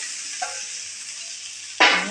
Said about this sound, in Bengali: ভালো করে নাড়াচাড়া করে আলুকে মিশিয়ে নেব।